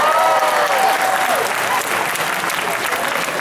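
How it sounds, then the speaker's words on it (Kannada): An audience at an NRI Akka 2014 stage show claps steadily, a dense wash of applause that carries on loud for several seconds, with faint voices and a brief tonal sound near the start. "ಎಡಗೈಯನ್ನು ಹೀಗೆ ಜೋಡಿಸಿ ಚಪ್ಪಾಳೆ"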